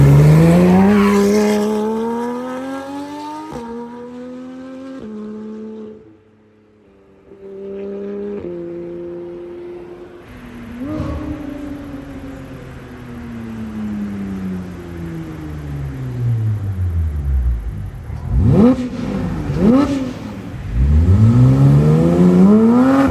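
A Porsche 991 GT3 RS with an iPE exhaust accelerates hard in front of a McDonald's, its engine howl climbing through several loud rising pulls, with brief dips between gear changes, and a final surge near the end.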